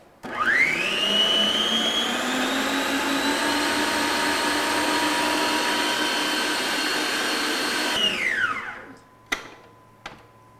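An electric mixer beats cake batter at high speed for a pie recipe. The motor whines up quickly and holds a steady, loud drone for several seconds, then spins down, followed by two sharp clicks.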